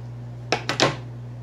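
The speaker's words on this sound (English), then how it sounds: "Now you can cut, go ahead and cut your cord." Three quick snips cutting cord while staking a pothos plant on a bamboo skewer, close and crisp, each short cut following the last within a fraction of a second, over a quiet background hum.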